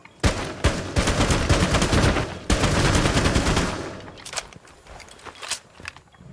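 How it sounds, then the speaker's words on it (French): Sustained, loud gunfire from Rainbow Six Siege, dense rapid bursts filling most of the stretch, then thinning into scattered separate shots toward the end, with no talk over it. "Je reconnais les bruits de ton arme quand même."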